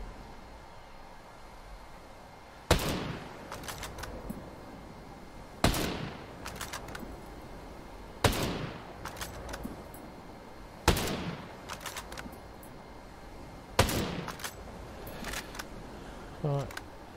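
Five heavy TAC 50 sniper rifle shots ring out in the shooter game Ghost Recon Breakpoint, spaced roughly three seconds apart, each a sharp loud crack followed by mechanical bolt clicks, with quiet ambience in between.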